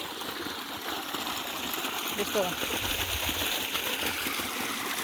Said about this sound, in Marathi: अशी मोटर चालू केलेली आहे मिस्टरांनी. ओठाला पाणी चालू आहे बघा.